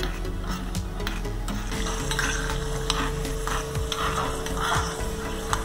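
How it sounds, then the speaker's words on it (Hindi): Almonds fry slowly in ghee over a low flame, giving a constant close sizzle with light stirring scrapes and faint clinks throughout, no talking. "इसके बाद आलमंड को फ्राई करेंगे, इसको भी इसे धीमी आंच पे धीरे धीरे"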